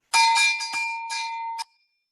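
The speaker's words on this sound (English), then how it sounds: "sheep bell, not goat" A metal sheep bell is shaken close up in several quick bursts of clanking rings with a sustained metallic tone, ending abruptly with a short fading ring and then silence, no voices.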